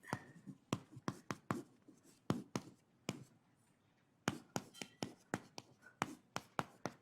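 Chalk or marker strokes on a board during a university chemistry lecture, a steady run of sharp taps and scratches in quick bursts with a short pause midway, close and fairly quiet with no talking.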